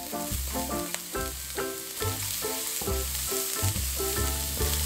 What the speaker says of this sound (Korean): 식용유 한 숟가락, 양파와 당근을 볶아주세요.